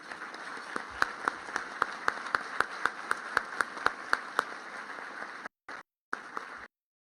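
An audience at a live Senate debate between Debbie Stabenow and John James claps to welcome Congresswoman Debbie Dingell and Michigan Secretary of State Ruth Johnson. Sharp, evenly spaced claps repeat for several seconds, then break up and stop abruptly.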